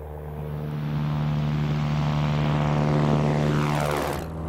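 A propeller aircraft departing Mojave's runway 01 left at a non-towered airport, its steady loud engine drone holding a strong low hum, then swelling and shifting in pitch as it passes close by and pulls away.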